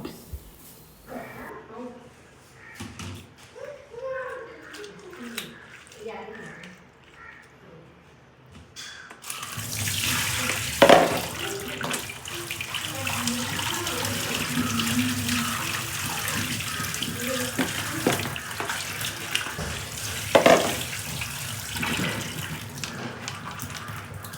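A kitchen tap runs in a steady, gushing stream as cut banana flower is washed, starting after a quieter stretch of handling sounds, with a couple of louder splashes.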